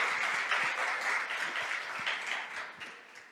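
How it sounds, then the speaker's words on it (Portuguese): A church congregation applauding together, a steady dense wash of many hands clapping at moderate distance, sustained throughout and tapering slightly toward the end. "Você pode aplaudir o Senhor?"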